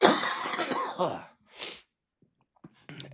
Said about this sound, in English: I'm coughing and fucking can't breathe